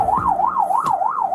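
Wailing police patrol car siren, a steady rising and falling tone repeating about every third of a second, loud and close as the car drives to back up other officers.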